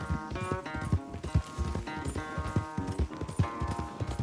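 A horse gallops flat out during a race in Red Dead Redemption 2, its rapid, steady hoofbeats loud and close throughout.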